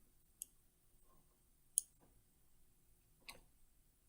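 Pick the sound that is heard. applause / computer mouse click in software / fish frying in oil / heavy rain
computer mouse click in software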